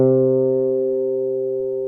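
A single sustained note rings out on a fretted string instrument, likely bass, during a scale exercise. It is loud at first and slowly fades with rich harmonics, with no other sound present.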